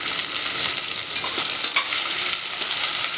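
Onions for tomato rice sauté in a hot pan, a loud, steady, dense sizzle with faint stirring scrapes, no voices.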